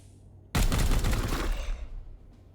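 Gunfire in the video game Warhammer 40,000: Chaos Gate - Daemonhunters: after a quiet half second, a sudden loud, dense volley of shots roars for about a second and a half, then fades away.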